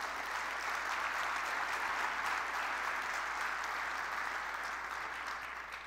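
A conference audience claps in sustained, dense applause at a general session, loud and even for several seconds before easing slightly at the end.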